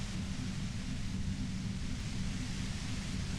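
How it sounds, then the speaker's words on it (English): Dense, loud, unbroken roar of violent white noise in the Disco Elysium video game, steady and overwhelming throughout with no gaps or talk. "The violent white noise becomes even more overwhelming"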